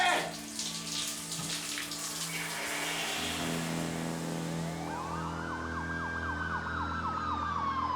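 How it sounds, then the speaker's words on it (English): Several sirens wail across a valley, rising and falling in overlapping tones with a steady background wash, the nearer siren swelling louder toward the end. "You could hear sirens all over the valley."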